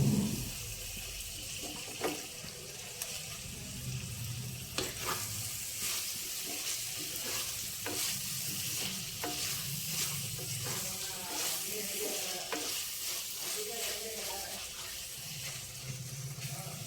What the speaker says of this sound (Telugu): వేగిపోయిందండి.